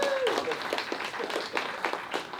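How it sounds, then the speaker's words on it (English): A round of applause from the cast, crew and audience at a Q&A for a film, steady and dense throughout, with a brief voice at the start. "everyone should give yourself a round of applause"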